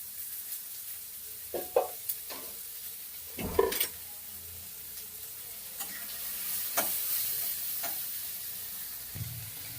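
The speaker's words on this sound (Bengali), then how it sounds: "দিয়ে সুন্দর করে 2 মিনিটের মতন ভাজা ভাজা করে নেব" Peas and green chillies frying in a pan for matar paratha, with a steady faint sizzle broken by several sharp scrapes and clinks of a spatula stirring, louder bursts near the start and middle, no talk.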